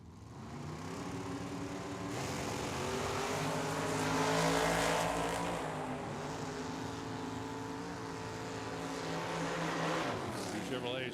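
A Corvette and a Chevrolet drag racing side by side at Tucson Dragway, a sustained loud engine roar swelling and fading over the run, with an announcer talking throughout.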